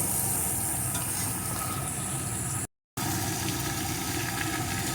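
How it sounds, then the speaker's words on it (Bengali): Pointed gourd (potol) slices frying in hot oil in a pan for an aloo potol fry, giving a steady, dense sizzle throughout, briefly cut off for a moment midway before resuming at the same level. "এখন পটলগুলোকেও একটু ভেজে নেব"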